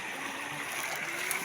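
A clear river flows as a steady, soft hiss and gentle gurgle of moving water, faint and continuous throughout, with no talk.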